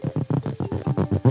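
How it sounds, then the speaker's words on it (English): An underwater paddle crab makes a rapid series of rough, throbbing pulses, about eight evenly spaced bursts in just over a second, close and fairly loud with no talking. "A paddle crab, for example, sounds like this."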